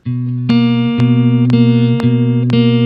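A lo-fi beat layer with RC20 distortion applied plays held low chord tones with a gritty edge, marked by crisp percussive hits landing roughly every half second.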